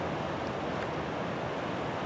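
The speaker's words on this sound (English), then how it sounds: "off in the distance you can kind of see the" Ocean waves break in the distance at Glass Beach near Fort Bragg, California, a steady broad wash of surf with a wind-like hiss, continuous and even, with no voices.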